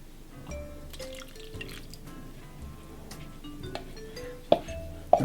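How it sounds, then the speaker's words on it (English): Milk poured into a Jamaican sticky ginger cake mixture gives a soft, steady liquid trickle at close range, ending with two sharp knocks against the bowl. "Then we're going to pour in our milk."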